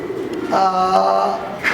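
Fancy pouter pigeons, including a pair of white pomeranian pouters, giving one close, resonant coo that swells and fades over about a second amid faint background chatter.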